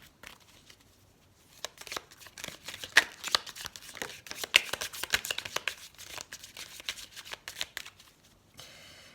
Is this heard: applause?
no